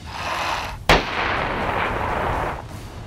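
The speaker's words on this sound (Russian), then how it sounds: "где производят экспериментальный подрыв" Experimental detonation of an explosive charge at a test range: a single sharp, loud blast followed by a roaring, rumbling outdoor wash that fades after a couple of seconds.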